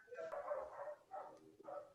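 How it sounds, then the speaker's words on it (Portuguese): A dog barks three times, somewhat faint and in the background, with short pauses between the barks. "E esse é o cachorro."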